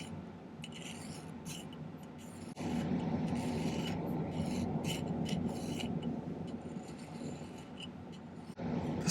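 File rasping on a silver bezel at a jewelry bench, a continuous close scraping that grows louder partway through, with no speech.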